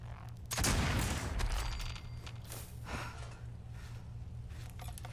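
Gunfire from a slow-firing weapon in the video game Rust, a loud burst near the start followed by a few fainter spaced shots over a steady low ambient hum.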